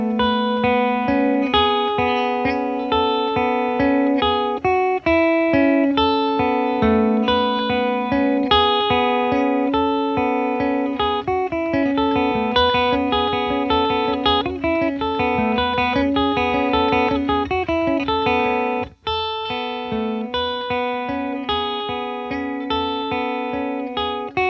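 Guitar plays the main riff, a steady run of picked, ringing notes with light effects and reverb, close and alone for the whole stretch with one brief break near the end.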